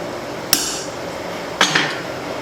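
Two sharp metallic strikes of a hammer driving a punch through a hole in hot spring steel for a forged cleaver, spaced about a second apart, with a faint ringing tail after each over a low shop hum.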